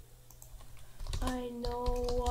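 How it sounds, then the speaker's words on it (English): Typing on a computer keyboard, a run of quick clicky keystrokes close to the mic, with tonal game music and faint background sound underneath. "I'm using a different keyboard here, and a new mouse, so hopefully you guys can hear it a bit."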